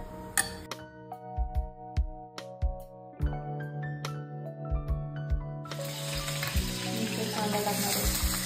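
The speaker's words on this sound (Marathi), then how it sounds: "तेल चांगलं तापलेलं आहे. त्याच्यामध्ये आता आपण खडे मसाले टाकणार आहोत." Whole spices, two cinnamon sticks and a star anise, dropped into hot oil in a home kitchen: sharp clatters and taps come first, then a loud, steady sizzle builds up close by and holds to the end.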